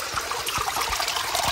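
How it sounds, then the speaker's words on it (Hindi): Water flows out from under the ground among stones and plants like a small stream, a continuous close trickling and gurgling with small splashes, no talking. "पूरा जमीन के नीचे से पानी आ रहा है देखो"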